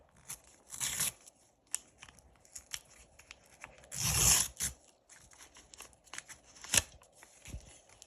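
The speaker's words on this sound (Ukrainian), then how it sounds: "Оця відкривашка не дуже добре, бо я порву так пакетик." A paper surprise packet is torn open with an opener. Several short, crisp bursts of ripping and crinkling come close to the mic and are separated by quiet gaps.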